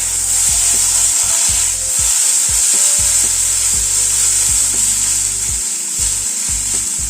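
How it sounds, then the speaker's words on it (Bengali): Bitter gourd and potato fry in oil in a pan over a medium flame, a loud continuous sizzle broken by repeated scraping and knocking strokes of a spatula as the pieces are stirred. "গ্যাসের ফ্লেমটাকে মিডিয়ামে রেখে উচ্ছে আর আলুটাকে ভেজে নিলাম"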